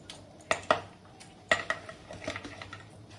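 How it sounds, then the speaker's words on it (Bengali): Fish pieces dropped into a pot of curry cooking with papaya and potato, giving a few sharp clinks and clatters of utensil against pot followed by softer stirring taps, close and fairly quiet. "এবার মাছগুলো দিয়ে দেবো।"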